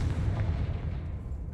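A Confringo spell explosion in Hogwarts Legacy, heard as one booming blast with a dense low rumble that fades over about a second and a half. No one speaks.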